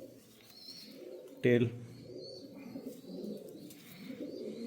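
Pigeons kept indoors at a breeder's loft in R.S. Pura give a single short coo against a low background murmur, with someone speaking Hindi nearby.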